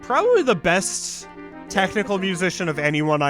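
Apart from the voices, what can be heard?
No everyday noises stand out.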